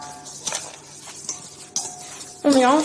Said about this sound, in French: Le sucre, on mélange.